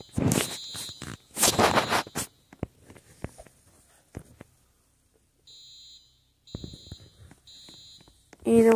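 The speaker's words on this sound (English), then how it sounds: "See? The alarm went off." A weapon detector alarm in a Roblox hotel video game sounds as a few short, repeated electronic beeps near the end, after louder bursts of noise and sparse clicks, with talk in the background.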